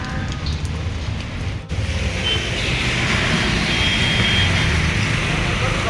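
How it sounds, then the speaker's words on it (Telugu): Heavy rain pours down in a steady, dense hiss that stays loud and unbroken throughout, with a brief dip early on. "వర్షం పెరిగిపోయింది గాయస్"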